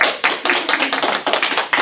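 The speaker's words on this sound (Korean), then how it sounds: "박수." A small group claps briskly together at a church gathering, sharp close claps in a quick uneven rhythm over a couple of seconds, with no talking.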